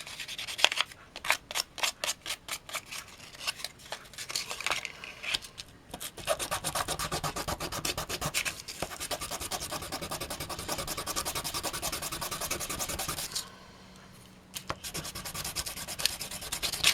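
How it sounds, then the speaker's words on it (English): Sandpaper rubbed back and forth on a small hobby figure to flatten it for an RC Mystery Machine van, a quiet rapid scratching that comes in fast short strokes and then long continuous rubbing with brief pauses. "then I get me a piece of sandpaper and we sand him flat"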